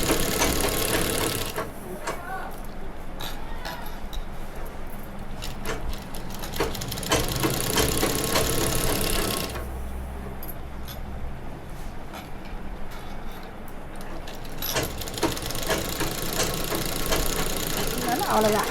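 A sewing machine runs in bursts while stitching a ready-made nighty during a tailoring alteration, its motor whirring and needle ticking fast and near, with pauses between runs.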